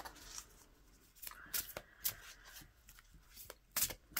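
A deck of oracle cards is shuffled for a reading, giving soft, quiet riffling and flicking bursts that rise in a few brisk flurries.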